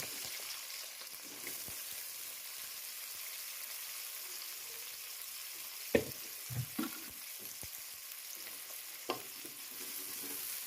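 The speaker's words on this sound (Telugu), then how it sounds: "బాగా బ్రౌన్ కలర్ వచ్చే వరకు ఇవన్నీ ఫ్రై చేసుకోవాలి బాగా" Chopped onions and green chillies frying in hot oil for a non-veg curry, a steady low sizzle with occasional stirring clatters and scrapes of the spoon, close and alone with no talk.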